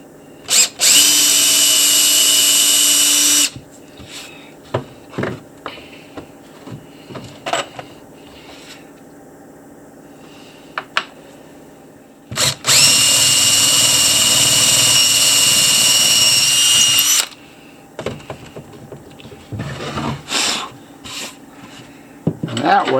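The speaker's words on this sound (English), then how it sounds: "drill a hole" A power drill bores into a fossil crab concretion in two long, loud, steady bursts of high whining grind, separated by a quieter stretch of scattered clicks and handling noises close at hand.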